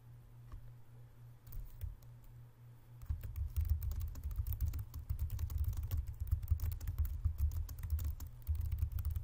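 Typing on a computer keyboard, a soft start and then a dense, fast run of close key clicks and taps that continues without a break, with no talking.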